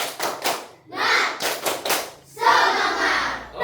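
A primary school class performs a rhythmic spirit clap, with bursts of group clapping and shouted chanting separated by short pauses, close and lively.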